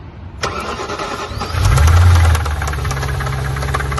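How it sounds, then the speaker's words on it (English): An Audi RS4 engine with two thrown connecting rods cranks and catches, surges louder for a moment, then settles into a rough idle with a steady metallic knocking ticking through it. "this clip of the engine starting up after, with me at the front trying to identify the noise"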